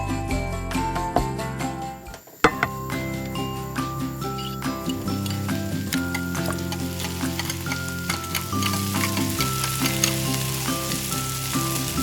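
Bacon sizzles and crackles in a small pan on a miniature cooking set, a steady close frying hiss with light tinkling stirs, heard under continuous background music.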